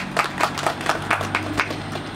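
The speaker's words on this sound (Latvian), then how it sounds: "Tā kā vēlreiz aplausi jums." A small audience at a public event on building insulation in Liepāja claps, producing a quick, regular patter of hand claps that is moderately faint and steady over a couple of seconds.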